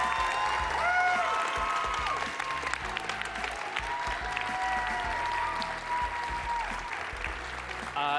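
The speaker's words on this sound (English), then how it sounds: "Let's give another round of applause for everyone on stage." A large crowd at a startup demo day in Atlanta gives a sustained round of applause for the people on stage, a dense, even roar of clapping with some cheering mixed in throughout.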